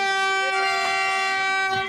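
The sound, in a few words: Vande Bharat train arriving at Patiala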